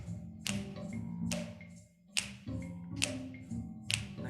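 Audience members snapping their fingers together to a beat at a poetry open mic, about five sharp crisp snaps spaced roughly evenly, close and clear over a low background murmur.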